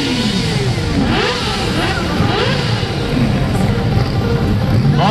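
A motorcycle engine revs hard at a drag race championship, loud and close, rising and falling in repeated pitch sweeps with a steady roar throughout.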